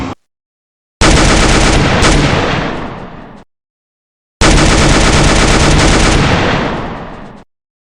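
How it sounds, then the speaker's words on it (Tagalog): Video game gunfire: two long, loud bursts of rapid automatic fire, each lasting a couple of seconds and separated by silence. "nandito po kami nakikipagpalitan ng putok sa mga gangster"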